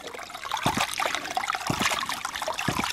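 Water from a 2-inch Agri Papa ram pump trickles and splashes steadily close by, with periodic gurgling surges as the pump cycles, and no talk.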